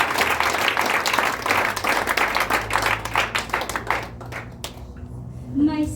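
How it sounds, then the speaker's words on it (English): A church congregation claps their hands together for Jesus, a loud, rapid run of many overlapping claps that thins out and fades toward the end, with a voice speaking over it. "Let us clap our hands for"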